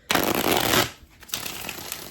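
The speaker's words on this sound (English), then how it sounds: "I have to separate the cards before I can do the riffle" Tarot cards from a Radiant Wise Spirit deck are riffle shuffled close up: a loud, dense flurry of fluttering card snaps that cuts off sharply, followed by a quieter, softer burst of cards settling and riffling.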